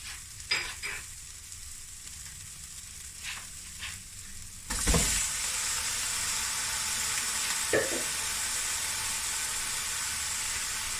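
Lamb hits a hot pan of fried onions and a loud, steady sizzle erupts, following a few quieter stirring clinks and light frying.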